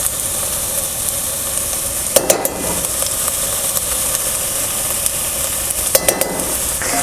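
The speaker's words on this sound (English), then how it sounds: "Now we can give that a stir." Tomato paste being stirred into chili in a pot, a steady hiss of cooking with two short clusters of spoon scrapes and clinks, close and without talk.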